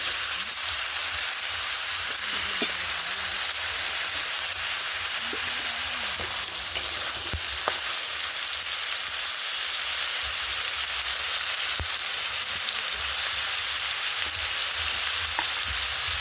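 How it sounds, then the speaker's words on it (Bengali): Eggplant and chopped tomato fry with dried fish in hot oil, giving a steady, fairly close sizzle with occasional faint clicks of stirring, no voices present. "এবার দিয়ে দেবো বেগুন। এবার দেবো টমেটো কোচানো।"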